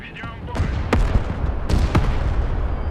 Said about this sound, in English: One of the Abrams looks like it detonated.